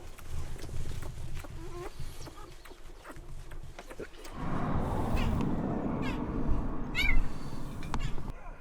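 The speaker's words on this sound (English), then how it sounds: "You guys hear the puppies?" High, wavering whines and yelps from rescued abandoned puppies in Morocco come in short bursts over a low rumbling background, growing louder and more frequent in the second half.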